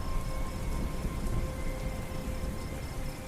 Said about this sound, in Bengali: আর সে তুমুল বৃষ্টি